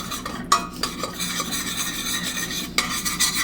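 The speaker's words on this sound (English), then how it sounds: "stir this in, because you don't want mouthfuls of cornstarch" Spoon stirring cornstarch into a steak cheese sauce in a pot, steady scraping and swirling with faint sizzling underneath and a couple of sharper clinks along the way.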